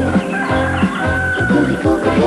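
A rooster in a 1987 French TV advert gives loud, close clucking and crowing calls, repeated in several short bursts over a busy backing.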